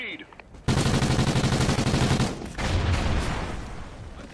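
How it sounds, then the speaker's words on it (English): Sustained video game gunfire in a team shooter, a dense, loud burst of automatic fire with a brief break before the shooting resumes. "I'm taking fire over here."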